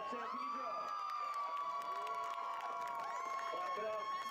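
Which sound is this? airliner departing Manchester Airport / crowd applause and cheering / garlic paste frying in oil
crowd applause and cheering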